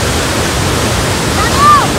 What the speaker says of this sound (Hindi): पानी का फ्लो बहुत ज्यादा है